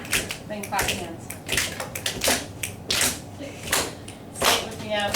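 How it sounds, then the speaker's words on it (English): A classroom group claps their hands in a steady rhythm of crisp, fairly loud claps, with voices chanting and talking between and under them. "Then clap your hands."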